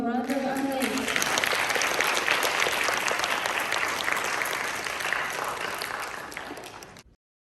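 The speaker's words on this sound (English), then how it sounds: "Everyone, once again, please give him a round of applause." Sustained audience applause fills a hall at a school presentation contest, dense and steady clapping that begins after a brief voice and fades out near the end.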